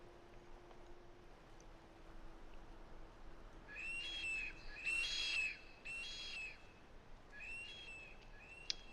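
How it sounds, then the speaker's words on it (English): Bird calls in the video game Skyrim, a series of shrill, agitated whistling cries repeating in bursts, fairly faint over a quiet outdoor wilderness ambience. "That's one pissed off bird there."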